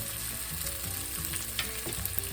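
Small onion pieces cooking in a warm pan for ranch-style pinto beans, a continuous close crackling sizzle with bursts of popping and occasional stirring scrapes, alone without talk.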